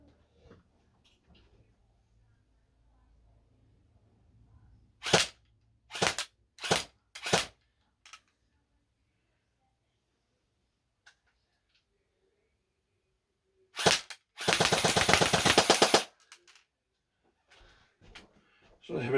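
Well R2 Scorpion airsoft gun firing at a target about fifteen feet away, a few single sharp pops spaced apart, then after a pause a quick rapid burst of shots, close and loud.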